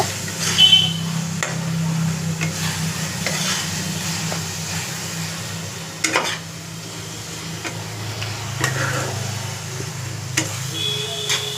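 Chicken coated in cumin, chili and coriander powder sizzles and is stirred in a pan while cooking with yogurt. A steady frying hiss runs throughout, broken by scraping stirs.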